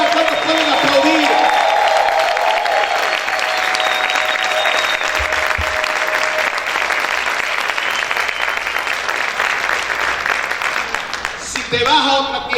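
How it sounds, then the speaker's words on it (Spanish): Sustained applause and shouting from a church congregation, loud and continuous for several seconds with voices rising through the clapping before it tapers near the end. "¿Cuántos pueden gritar? ¿Cuántos pueden aplaudir?"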